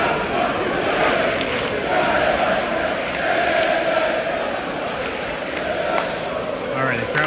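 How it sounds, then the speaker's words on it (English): Hockey crowd at a Swedish professional game, Djurgården versus Mora, swelling into a steady roar of cheering and chanting in a large arena, loud and continuous throughout. "All right, the crowd's coming to life here."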